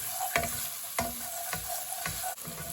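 Garlic sizzles steadily in a frying pan while a utensil stirs it in regular scraping strokes, roughly every half second, heard up close.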